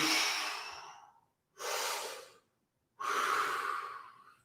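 A person breathing during a stretch in a vocal warm-up session: three slow, airy breaths up close, one long exhale, then a shorter one and a final long one, separated by near silence.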